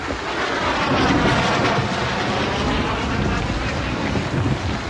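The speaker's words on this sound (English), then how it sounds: "Aeroplanes! Aeroplanes? In this weather too?" Aeroplanes flying over during a storm, heard as a steady, loud roar with broad rushing wind noise and a low rumble, continuous and without a break for the whole span.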